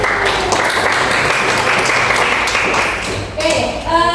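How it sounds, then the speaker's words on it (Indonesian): Students in a classroom applauding together, dense, close clapping that runs steadily for several seconds and then thins out as the clapping fades. "beri tepuk tangan dulu"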